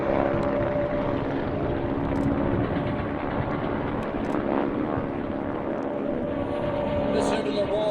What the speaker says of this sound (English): Listen to the roar of the engines